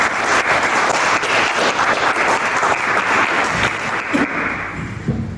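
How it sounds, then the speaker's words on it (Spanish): An audience gives a welcoming round of applause for poet Alicia Genovese at the BorgesPalooza 2024 literary event, with loud, dense clapping that holds steady for several seconds and then tapers off. "pido un fuerte aplauso."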